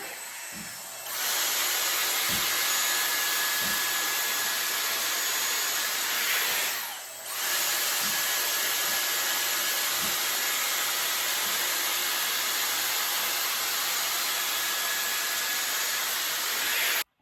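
A Dyson Airstrait hair dryer-straightener blows on hair with a loud, steady airflow roar lasting most of the time, briefly dipping once, and carrying a faint high whine.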